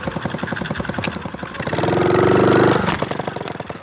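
Motorcycle engine running close by, a steady pulsing mechanical drone that swells into a louder, higher-revving stretch in the middle before easing back to a rougher throb.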